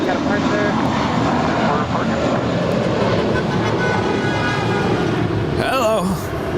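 Jet airliner taking off from runway 25 right at Los Angeles airport, a loud continuous engine roar filling the clip, with a radio voice heard briefly near the end.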